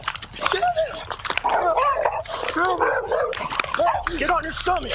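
A dog barks and yelps repeatedly in agitated bursts during a police arrest, close and loud, mixed with shouting voices.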